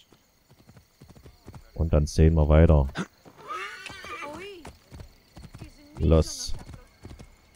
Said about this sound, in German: Das Pferd kann doch irgendwie auch noch schneller reiten.